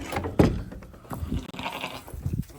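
A white Dorper Katahdin wether sheep gives a few short, close bleats amid shuffling and light handling noises, the loudest call coming early and a softer one near the end.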